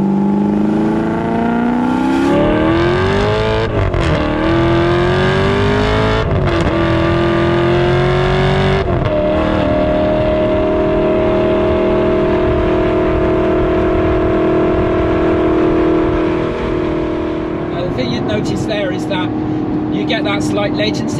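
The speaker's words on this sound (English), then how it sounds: "so you should hear the exhaust." An Alfa Romeo 8C Competizione with its exhaust in sport mode, accelerating hard through several gears with a rising, howling engine note and quick drops at each shift, then a steady loud cruise; talk comes in near the end.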